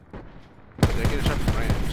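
Rapid burst of video game gunfire erupting suddenly and loudly after a quiet moment, with repeated sharp shots in quick succession like automatic fire, heard alone.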